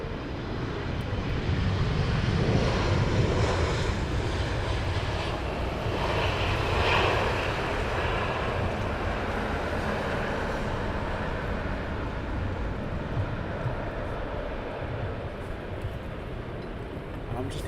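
An airliner arriving at London Heathrow gives a distant, moderate engine roar that swells and then slowly fades, with a voice speaking faintly over it.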